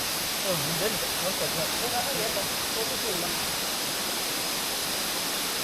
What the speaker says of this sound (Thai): นี่ครับน้ำตก